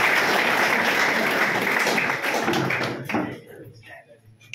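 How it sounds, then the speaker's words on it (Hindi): An audience claps loudly and continuously to welcome a student at a school science-test prize event, the applause thinning out near the end with scattered claps. "मेरे सारे लाडले और लाडलियां इसका ताली बजा करके स्वागत करना"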